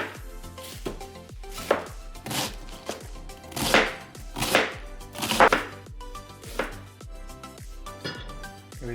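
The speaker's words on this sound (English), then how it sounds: "And we're going to slice it up." A knife slices through a red cabbage on a cutting board, giving about a dozen crisp, crunchy cuts in an uneven rhythm. The chopping is close and clear, with no talking over it.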